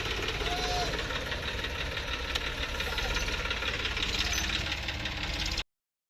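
A tractor engine runs loud and close, a continuous knocking, vibrating drone that holds steady throughout before cutting off abruptly near the end.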